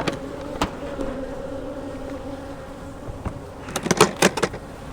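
Honey bees buzzing around an Apimaye nuc hive, a steady close drone with individual bees zipping past near the end, plus a few sharp knocks.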